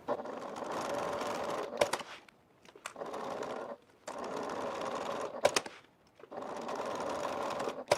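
A sewing machine stitches a seam on faux leather bag fabric in three or four steady whirring bursts separated by short pauses, close and clear, with a few sharp clicks between runs.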